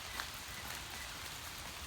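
Rain falling through trees on a forest hike, with a soft, steady patter and hiss throughout and a few faint close drops standing out.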